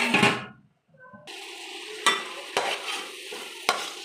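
Masala for chicken biryani sizzles and fries in a pan while being stirred, with sharp scraping strokes of the spoon against the pan at intervals, after a brief pause near the start.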